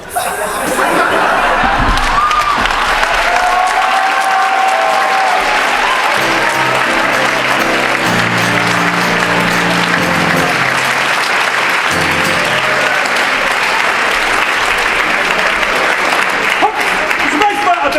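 Sustained applause from a theatre audience after a stage scene fills the clip, dense and steady, with scattered chuckles and a murmur of voices mixed in.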